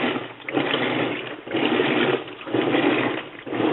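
Water sloshing inside a faulty washing machine whose drum is not rotating, with about four inches of water; a steady churning, pump-like wash noise swells and dips in rhythmic surges about once a second, close and fairly loud.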